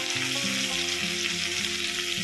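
Tomato, green chili and ginger frying in a pan for a fish curry, producing a dense, continuous sizzle at close range over a low, droning hum with a rising and falling pitch, with no voices.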